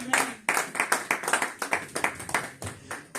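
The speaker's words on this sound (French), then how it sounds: "Est-ce qu'on peut acclamer pour la gloire de Dieu?" A church congregation claps together during a sermon, the steady rhythmic hand claps sounding close and fairly loud for a few seconds.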